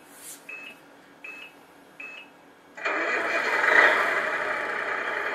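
Tamiya MFC light and sound unit fitted in a 1/14 RC King Hauler truck gives three short electronic beeps, then a loud simulated truck engine kicks in and runs steadily and close, with no talking.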